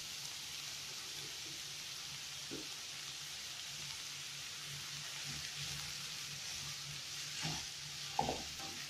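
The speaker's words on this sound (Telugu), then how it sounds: "ఈ అల్లం వెల్లుల్లి పేస్ట్ పచ్చివాసన పోయేంత వరకు అలా ఫ్రై చేసుకోవాలి." Ginger garlic paste fries in a pan, giving a steady, fairly quiet sizzle with a few soft clinks of stirring near the end.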